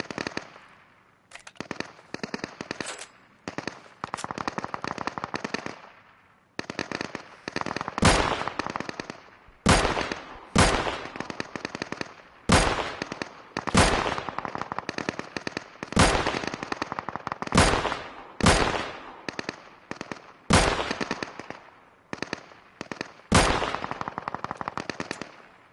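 Bursts of automatic gunfire from a ghillie-suited player in the shooter Deadside, repeated sharp volleys in irregular clusters with brief silent gaps, loud and close throughout.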